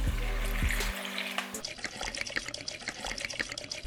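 Water is poured onto a houseplant growing in LECA clay pebbles, a close, trickling splash and gurgle that shifts partway through as the flow settles among the pebbles.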